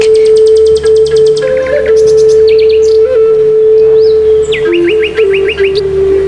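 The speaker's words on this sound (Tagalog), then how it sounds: "Tanging mga ibon, tapos yung huni lamang ng bumabagsak na tubig sa falls na ito ang iyong maririnig." Birds chirp and sing in bursts over a steady rush of water falling at a waterfall, with a constant tonal hum running underneath throughout.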